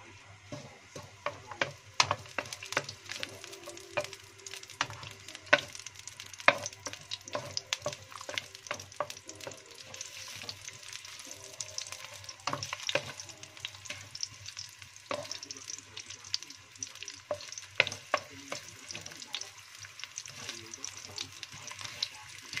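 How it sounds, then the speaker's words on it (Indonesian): Crushed garlic and ginger sautéing in a pan for a goose-feet dish, with a continuous close sizzle broken by frequent sharp scraping and clinking stirs in an uneven rhythm. "Tuangkan keprekan bawang sama jahe ya guys ya, digongso dulu"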